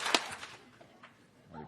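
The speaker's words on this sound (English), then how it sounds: "Nico Rohde, one clap." A single sharp collective clap from a commencement audience at Ferrum College, one loud crack near the start that fades into quiet room ambience, with a faint voice returning at the end.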